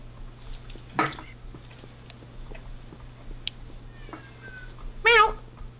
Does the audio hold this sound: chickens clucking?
no